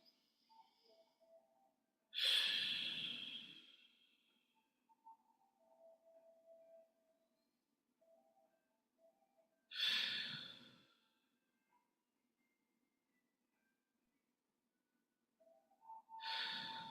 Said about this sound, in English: just keep that breathing going until you feel things settle